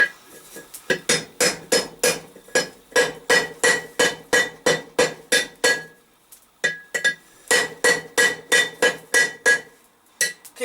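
A blacksmith hammers hot steel on an anvil while shaping a dragon's twist fire poker, with sharp ringing blows in a steady rapid rhythm, a brief pause, then another run of strikes.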